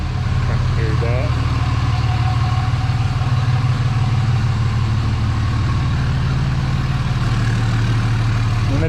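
A 3rd-gen Dodge truck's 5.9 diesel idles loudly through a full 5-inch deleted exhaust, a steady deep rumble held close and constant throughout with no gaps.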